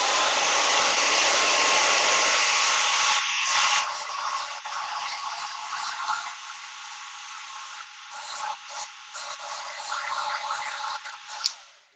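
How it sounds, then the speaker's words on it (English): A handheld hair blow dryer running while drying hair at the roots gives off a steady, loud airy whoosh. Its level dips and wavers as it moves, and it cuts off at the end. "Blow dryer on,"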